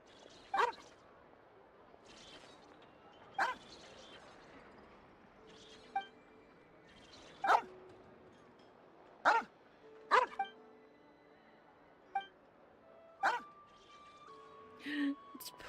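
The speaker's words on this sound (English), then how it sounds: "Also, Trigger, is your dog okay?" A dog, Paulo's dog, gives a string of short, sharp barks and yips spread across the stretch, with soft whimpers and faint background sounds in the quiet gaps.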